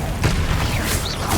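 A Confringo spell blast in Hogwarts Legacy, a short booming burst with a rushing, whooshing tail, followed by a second thump near the end, loud and close.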